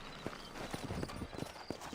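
Horse hooves clop at a walking pace in Red Dead Redemption, a short run of close, fairly quiet rhythmic hoofbeats over low background noise.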